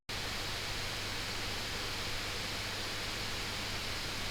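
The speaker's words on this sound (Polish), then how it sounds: "jak wiadomo żyłowany laptop prawdopodobnie będzie szumiał i tutaj jest nie inaczej" A steady, even whooshing whir of a laptop cooling fan spinning hard under load holds constant from start to finish, with nothing else audible.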